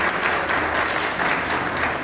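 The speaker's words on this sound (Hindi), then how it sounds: "तो सबसे पहले तो बहुत जोरदार ताली बजा करके आप स्वागत करें।" Loud, sustained applause from an audience at the 67th foundation day ceremony of the Lalit Kala Akademi, a steady dense clapping that fills the whole moment without pause.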